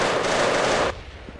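Rapid bursts of paintball guns firing during a paintball match, a dense rattling volley for most of a second that cuts off abruptly, leaving quieter background noise.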